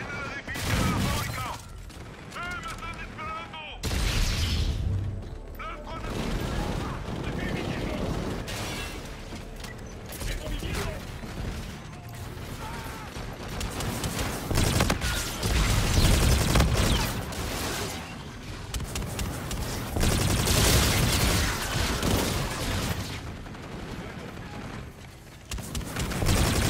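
Dense gunfire bursts and explosions from a Call of Duty: Infinite Warfare firefight around a factory building, loud and sustained, with voices shouting over the shooting.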